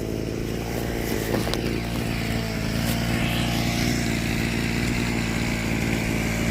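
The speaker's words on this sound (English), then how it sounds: "So this is the land being cleared with the weed whacker." A weed whacker clearing overgrown land on a farm in Jamaica, its steady buzzing motor droning continuously at close range with slight rises in pitch, no voices over it.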